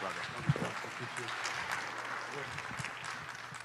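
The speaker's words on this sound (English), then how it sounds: "If you give Uriah a big SCC round of applause." A church congregation applauds during a Sunday morning service, a steady wash of clapping from a crowd that runs the whole stretch, fairly distant and moderate in level, with a few voices calling out beneath it.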